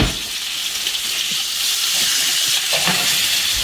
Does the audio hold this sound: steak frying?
yes